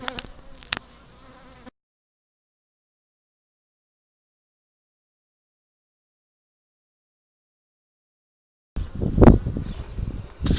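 Honey bees buzz close around a beekeeper at a hive being requeened, in short bursts at the start and end with a long silent gap between.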